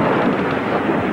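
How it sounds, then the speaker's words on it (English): A thunderstorm, with a dense, loud wash of heavy rain and rumbling thunder filling the whole moment, no voices present. "This feels like a real storm."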